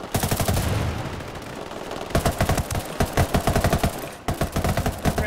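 Automatic gunfire in the tactical shooter Ghost Recon Wildlands: rapid bursts of close, loud shots in a steady rhythm with short pauses between volleys.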